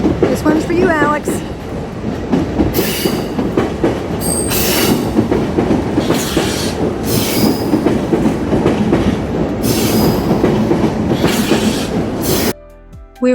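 A train passing on railway tracks in Tokyo, heard from a bridge over the line: loud continuous rumble with rhythmic wheel clatter and squealing, ending abruptly near the close.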